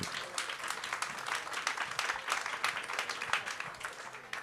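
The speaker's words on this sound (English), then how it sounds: "So let's have a big round of applause for these people." A conference audience at Cannes applauds a panel of editors and correspondents, a thick, fairly quiet round of clapping that holds steady throughout.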